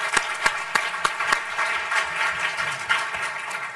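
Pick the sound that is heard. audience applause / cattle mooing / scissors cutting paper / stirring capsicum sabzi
audience applause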